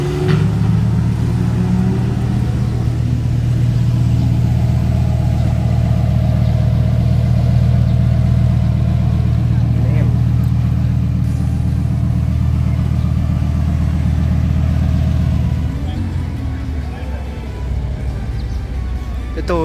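Porsche 718 Boxster at a Cars & Coffee meet in Manila, its engine running steadily with a low rumble and occasional revs, fairly close and loud, easing off near the end as it pulls away, with faint voices in the background.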